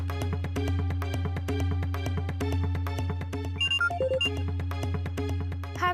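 An outgoing phone call rings at night, heard as a repeating electronic ringback pattern with a steady tonal rhythm and a brief run of higher beeps partway through, with no speech.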